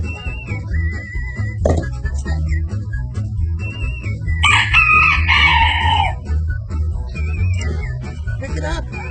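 Chickens cluck and call close by in a farmyard setting, with a low rumbling background and a louder burst of squawking partway through; a voice is faintly mixed in.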